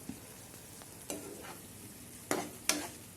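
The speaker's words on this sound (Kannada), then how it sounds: "ಟೊಮೆಟೊದು ನಾವು ಪ್ಯೂರಿ ರೆಡಿ ಮಾಡ್ಕೊಂಡಿದ್ವಲ್ಲ, ಅದನ್ನು ಡೈರೆಕ್ಟಾಗಿ ಇದಕ್ಕೆ ಹಾಕ್ಕೋಬೇಕು" Tomato puree tipped into a hot pan and sautéed, with a few short sizzling bursts and stirring scrapes over a quiet background.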